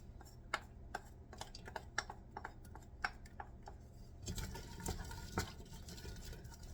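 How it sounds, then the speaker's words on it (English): Onions dumped into hot lard in a pot for Hungarian lecsó, first a series of sharp taps and clicks from stirring, then a rising soft sizzle as they begin to sauté, faint and close. "I will saute these onions for about 2 minutes."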